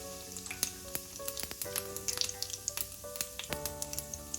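Cumin seeds hit hot oil in a pan while a chayote pickle is prepared, giving a quiet, close sizzle with scattered sharp pops and crackles at an irregular pace, no voices.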